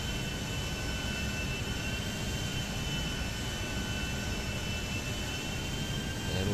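A fast jet plane taxiing out in GTA 5, a steady, moderately loud engine whine and roar that holds constant throughout with no talking.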